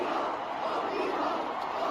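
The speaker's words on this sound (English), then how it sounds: "Toronto crowd was shouting OV hoes." A dense Toronto crowd shouting together, a loud continuous roar of many voices filling the space without pause.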